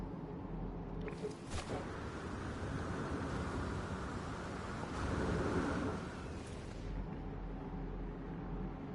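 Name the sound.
hot rain and thunder in the video game No Man's Sky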